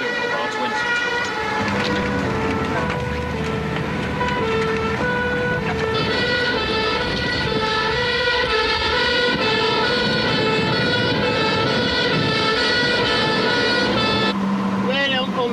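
Fire engines responding on blue lights with wailing two-tone sirens over a rumbling truck engine, loud and continuous, with traffic noise underneath.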